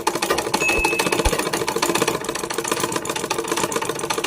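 A sewing machine runs steadily, stitching a folded side seam of fabric with a fast, even mechanical chatter close by, plus a couple of low thumps near the start.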